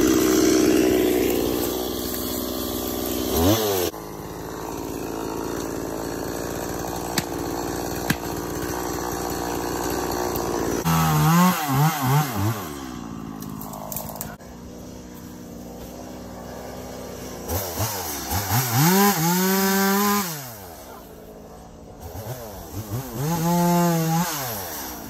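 A chainsaw runs at a distance, idling and then revving up in several surges, its engine pitch rising and falling.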